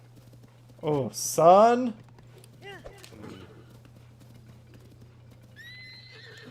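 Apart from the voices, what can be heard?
horse galloping and neighing in the video game Zelda: Tears of the Kingdom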